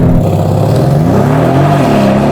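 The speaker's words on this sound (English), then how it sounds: "I'm going to launch this car and measure it from 0 to 60 miles an hour" A Bentley Flying Spur launches from standstill at full throttle, its engine roaring loudly and continuously as the revs climb, close and alone.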